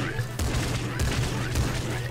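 Rapid bursts of gunfire from the Nuclear Throne video game, loud repeated shots in quick clusters with a player's voice mixed in.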